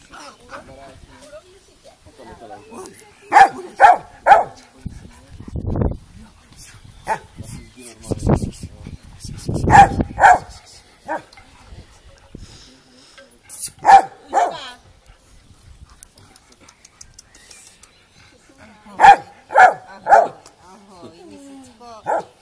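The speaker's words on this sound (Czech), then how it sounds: "Delfíno, štěkej, štěkej. Štěkej" A dog barks on command outdoors in several quick bursts of two or three loud, close barks, each answering a woman's repeated urging, with quiet gaps between.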